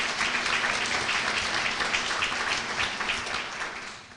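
An audience at the 2019 GOAL, EAGLE and Rick Perkins Award Luncheon applauds an honoree, a dense, steady patter of many hands that tapers off at the end.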